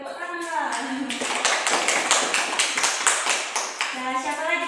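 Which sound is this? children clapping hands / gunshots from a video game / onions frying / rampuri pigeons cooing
children clapping hands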